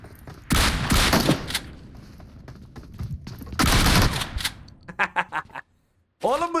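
Video game gunfire comes in loud bursts of rapid shots, with pauses between them, then a run of separate single shots and a final burst after a short silence.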